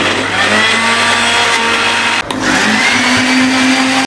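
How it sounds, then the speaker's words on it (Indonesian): A kitchen blender grinding tempeh without added water, a loud, steady high-pitched motor whine that briefly dips partway through, then drones on at full power. "kita blender sampai halus tanpa bantuan air ya."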